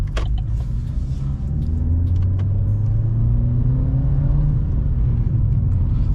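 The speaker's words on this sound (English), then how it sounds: "First gear pulls sounds so nice, but so scary." A Vauxhall Corsa 1.4-litre with a loud exhaust pulls hard in first gear on a night drive. The engine drones and rises steadily under a deep, continuous rumble from close inside the car.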